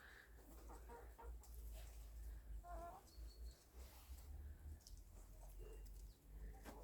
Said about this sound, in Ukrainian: От вредні кури.